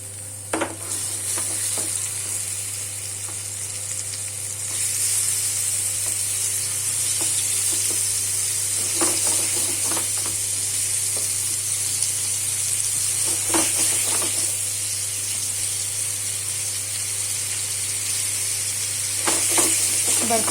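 Paneer pieces frying and being gently stirred in a kadai over a flame, heard as a steady close sizzle with occasional scraping taps of the spoon against the pan, no talking.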